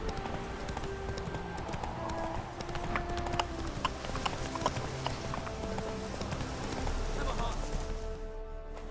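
Horse hooves in the video game The Witcher 3: Wild Hunt, a steady, rapid clip-clop of galloping that runs throughout, clear and close, with a person talking over it.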